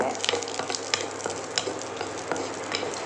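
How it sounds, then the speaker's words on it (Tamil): Four or five small onions sautéing in a pan for a brinjal and potato kuzhambu, a steady soft sizzle punctuated by light scraping stirs. "இப்போ வெங்காயம் வணங்கிட்டுருக்கு"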